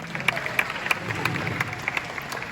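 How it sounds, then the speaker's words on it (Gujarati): An audience at a Gujarati folk dayro performance in America claps, a crowd of hands patting in a steady, fairly soft patter with sharper individual claps standing out. "સૌથી પહેલાં તમે તમારા માટે તાળી પાડી દેવા છે."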